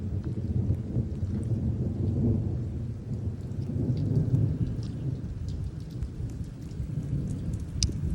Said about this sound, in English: this storm is really mad